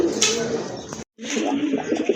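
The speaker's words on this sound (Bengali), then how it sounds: "আরেক জোড়া কবুতর এটা হচ্ছে গিরিবাজের ভিতরে কালো গলা কবুতর" Black-necked Giribaz pigeons coo nearby in soft, continuous throaty rumbles, broken by a brief dropout midway, with faint background noise.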